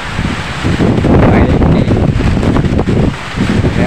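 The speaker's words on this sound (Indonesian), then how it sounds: "Nganjuk hujan angin." Strong wind with rain in Nganjuk, a loud continuous roaring buffet of gusts pounding the microphone and rustling nearby growth, heavy and unbroken throughout.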